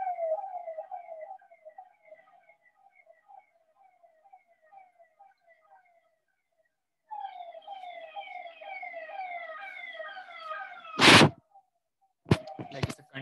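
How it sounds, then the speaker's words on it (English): A continuous wailing siren with harmonics, steady for several seconds, then louder with overlapping tones, interrupted by a few sharp loud bangs near the end. "Like it's a continuous siren actually going on."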